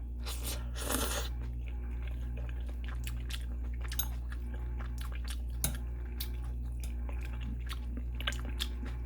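Chewing stir-fried Korean fish cake with meat, soft crunching and squishy bites close to the mouth over a steady low hum, a louder crunch near the start then quieter, sparse chewing sounds.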